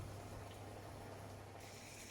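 Water with a splash of vinegar heats toward a boil in a kitchen pot for poaching an egg, giving a faint, steady bubbling hiss close by with no talking.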